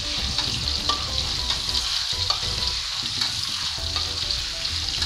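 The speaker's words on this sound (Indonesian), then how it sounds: "dan kita oseng." Chili being stir-fried in a pan at home, a steady close sizzle of frying with spatula scrapes and stirring clatter running throughout, no voices.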